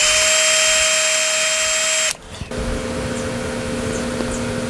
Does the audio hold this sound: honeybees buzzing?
no